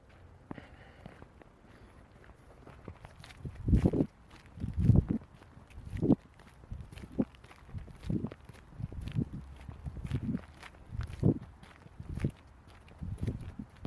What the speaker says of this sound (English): It's a lady speed walking.